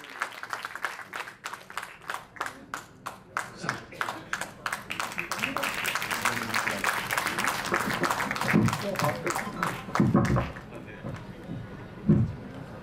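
An audience at an inauguration event bursts into applause as Lieutenant General Arvind Rawat comes on stage, with rhythmic group clapping that swells and fades out over several seconds, accompanied by a few louder thumps near the end.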